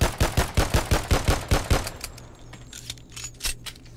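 Rapid burst of gunfire from a gun in the video game Together B&B, about a dozen evenly spaced loud shots in the first two seconds, then sparser scattered pops over a low hum.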